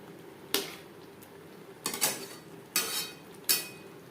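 Spoon scraping and clinking in a pan as potatoes and Gobindobhog rice are stirred and fried with spices, four distinct metallic strokes at a slow irregular pace, fairly close and moderately quiet.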